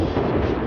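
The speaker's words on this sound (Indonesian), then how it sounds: "Retakan yang menjalar dari gunung es mengeluarkan suara yang meledak-ledak sebelum akhirnya jatuh dan mengeluarkan suara dentuman seperti meriam" A deep, continuous rumbling boom of glacier ice in Patagonia cracking and collapsing like cannon fire, loud and sustained with heavy low-end roar throughout.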